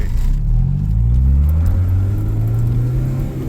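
A 4th generation Honda Prelude project car engine rumbles steadily while driving, with low droning tones rising as it accelerates, close and loud with no talking.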